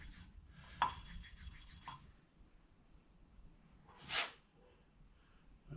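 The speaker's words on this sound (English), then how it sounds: "once the seats are all cut, it's time to do the hand lapping" Hand lapping of valve seats on a 1979 Honda Goldwing cylinder head with lapping compound: two short, close gritty rubbing bursts, a sharp scrape near the start and another swell a few seconds later, over a quiet background.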